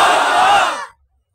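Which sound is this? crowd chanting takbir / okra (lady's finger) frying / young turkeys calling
crowd chanting takbir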